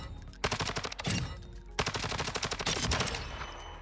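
Assault rifle fire in Warzone 2: two loud, close bursts of rapid automatic shots separated by a brief pause.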